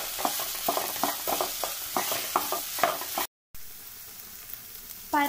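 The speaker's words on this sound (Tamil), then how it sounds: "எண்ணெய் சூடானவங்க நம்ம கட் பண்ணி வச்சுருக்க வெண்டைக்காயை ஆட் பண்ணி நல்லா ஃப்ரை பண்ணுங்க." Sliced okra fries in hot sesame oil in a pan while being stirred, giving a rapid series of close scraping strokes over steady sizzling, then a short gap and a quieter sizzle.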